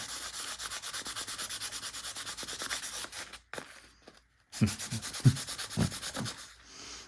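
Sandpaper rubs the tension discs of a Singer 401A sewing machine in quick, even back-and-forth strokes, close and fairly quiet. A short pause follows, then slower, uneven scrubbing strokes.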